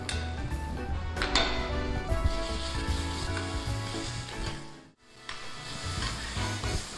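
Ginger slices, minced garlic, onion and plums stir-fry in oil in a tall wok, a steady sizzle under repeated metal spatula clanks and scrapes against the pan, with a brief pause near the end.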